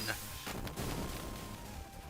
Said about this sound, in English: You're gonna die in a skull explosion!